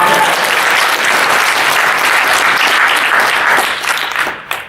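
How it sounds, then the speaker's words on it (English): A convention panel audience breaks into dense, sustained applause that stays steady and loud before tapering off at the end. "Round of applause!"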